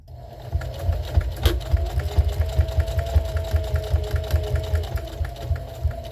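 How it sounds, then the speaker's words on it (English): A sewing machine stitching fabric for a jar gripper, running steadily with a rapid, even mechanical chatter and hum, close and loud, with one sharp click early on and no talk. "I am going to go ahead and sew right on top of my bottom stitches."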